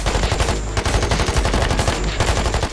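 Rapid bursts of automatic suppressive gunfire in the video game Squad, Invasion mode, loud and nearly continuous, with short gaps between sustained volleys.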